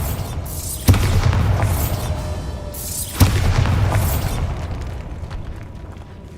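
Bombarda spell explosions in the video game Hogwarts Legacy: two sharp booming blasts about two seconds apart, each followed by a long rumbling, crackling decay.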